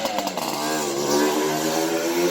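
A mini bike's small engine revving, a close, buzzing, high-pitched drone that rises and holds steady, loud and alone without talk.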